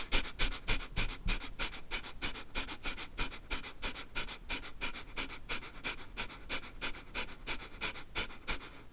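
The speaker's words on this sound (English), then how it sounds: "You can do just the pumping of the bellows, which is just a short in and out breath from the stomach." Bellows breathing through the nose: rapid, rhythmic short in-and-out breaths from the stomach, dozens of evenly spaced puffs, close and alone.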